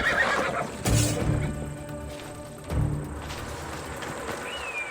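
A horse in Assassin's Creed Odyssey whinnies loudly near the one-second mark, then neighs again around three seconds, with soft hoof clatter and game ambience filling the gaps.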